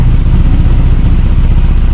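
A Honda Click 150 scooter engine runs steadily after a top overhaul, a loud, close, even mechanical hum with a fast rhythmic clatter throughout, no voices.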